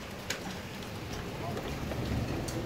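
A dense, steady roar of hail pours down during a heavy hailstorm in Utrecht Lunetten, with gusting wind noise.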